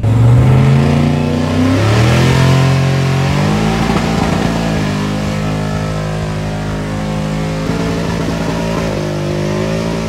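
A 2nd Gen Cummins dually truck revs and accelerates during a race, its loud diesel engine droning steadily with rising and shifting pitch, close and continuous throughout.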